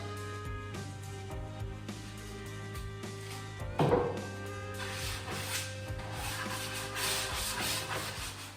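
Sandpaper rubbed by hand over a small wooden part for an indoor swing, giving soft, steady scratchy strokes in a quiet room, close and fairly faint, with a low hum underneath.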